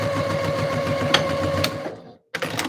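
A sewing machine runs steadily while stitching fabric for shorts with ruffles, a close, continuous whirring hum that slows and cuts out into a brief silence before starting up again.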